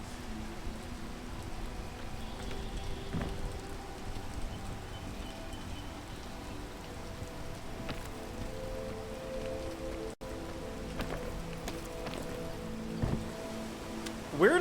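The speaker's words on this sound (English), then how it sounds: "Now it's raining." Steady rain in the climbing video game PEAK hisses evenly as a faint, continuous wash throughout, with a few soft clicks and taps over it.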